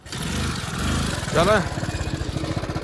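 A small vehicle engine chugs close by with a steady, rapid pulsing beat, while a voice talks over it.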